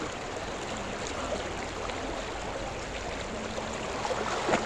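A river stream flows with a steady, close broadband rush of water that stays even throughout, growing slightly louder near the end.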